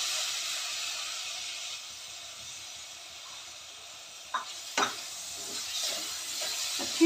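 Finely chopped tomato goes into frying onions for an arbi (taro) gravy, a steady soft hiss of sizzling oil broken by a few sharp clatters and stirring noises near the middle, with no talking.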